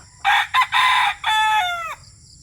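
A single Boston Black rooster with a straight comb crows once in the early pre-dawn dark, a clear, close, broken call of several bursts ending in a falling drawn-out note.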